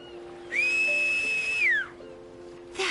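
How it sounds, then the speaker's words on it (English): A single clear, sustained whistle rings out in World of Final Fantasy, holding one steady pitch for about a second before sliding down, over a quiet game music bed. "you can just whistle to signal for help"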